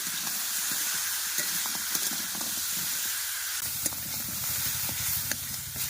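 Crab curry with taro, potato and bay leaves frying in a pan, a steady close sizzle and hiss with light clinks of stirring throughout.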